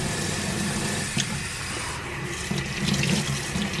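Tap water runs steadily into a sink or tub to fill a dog's bath, a continuous close splashing stream with slight surges toward the end.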